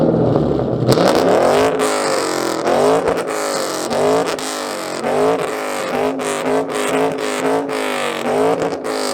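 Ford Mustang GT engine revving hard, loud and close, with repeated throttle blips rising and falling in a rough rhythmic pattern after an initial surge.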